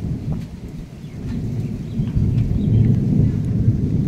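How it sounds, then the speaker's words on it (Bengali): Deep, low rumble of thunder during a thunderstorm, heard from indoors near a window, rolling steadily and growing slightly louder over a few seconds with no talk. "উফ, মেঘের কি গর্জন"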